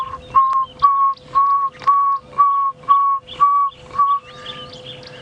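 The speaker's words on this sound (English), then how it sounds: "I can hear a pearl-spotted owl calling in the distance." A pearl-spotted owl calls from a distance on a sunrise safari drive, giving eight evenly spaced, rising whistled notes in a steady series before falling quiet.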